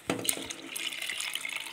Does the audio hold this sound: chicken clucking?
no